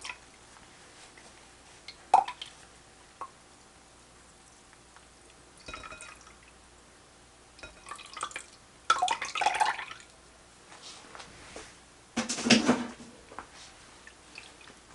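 Aloe vera pulp and water strain through a cloth, giving sparse wet drips and squishy splashes in short bursts separated by near-silence, close and fairly quiet.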